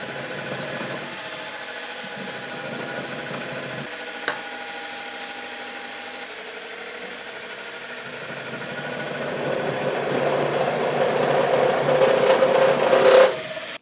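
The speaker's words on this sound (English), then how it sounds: "so the drill may want to wander." A center drill bores into a plastic injection mould, at first a quiet steady machine hum with a faint click, then a louder scraping, rasping cut that builds over the final seconds before stopping abruptly.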